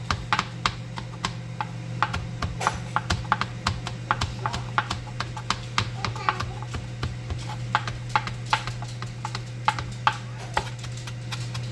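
A kitchen knife chops fresh basil finely on a board while stir fry is being made, giving a steady run of quick, crisp taps close by over a constant low hum, with occasional voice faintly underneath.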